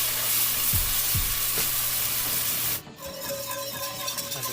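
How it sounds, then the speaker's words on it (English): Flour whisked into a hot pan while browned fond is scraped loose from the bottom, a loud, dense sizzle with rubbing strokes that drops abruptly to a quieter hiss partway through. "I'm just giving it a good quick whisk."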